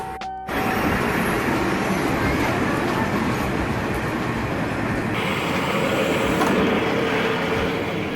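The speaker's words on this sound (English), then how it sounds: "And take the train." A train rumbles past up close, a loud steady roar of wheels and carriages that starts abruptly after a brief quiet moment.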